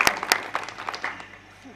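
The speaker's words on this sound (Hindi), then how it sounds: "जोरदार ताली बजाएं" Scattered audience claps at an outdoor poetry gathering in Pithampur, a few sharp claps near the start that quickly thin and fade away.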